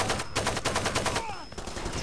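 AK-47 assault rifle fire in the Far Cry 2 video game, loud rapid bursts of automatic shots close up, with a brief pause and then more firing.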